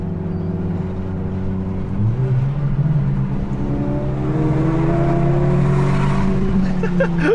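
A Stage 3 tuned Chevrolet Cruze accelerates hard to overtake a Honda Civic VTi, its engine note climbing steadily in pitch and growing louder over several seconds, loud and close inside the car, with no speech.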